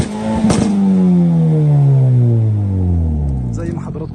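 Turbocharged GDI car engine fitted with a valved exhaust, valves opened, giving a loud, deep revving drone that swells and then drops away, heard close with a sharp clank at the start and someone talking over it.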